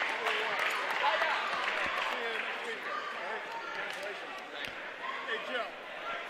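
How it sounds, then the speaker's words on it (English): Crowd applause in a high school gymnasium at a NJSIAA sectional wrestling tournament, greeting wrestler Canonica after the 150-pound bout, a steady, dense roar of clapping mixed with crowd noise throughout. "Canonica gets a huge round of applause."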